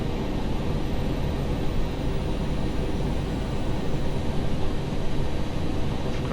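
A steady, moderately quiet engine drone from a Toliss A319 airliner in flight within the X-Plane flight simulator game, an even broadband hum that runs on without a break.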